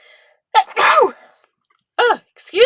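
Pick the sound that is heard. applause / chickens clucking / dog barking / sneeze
sneeze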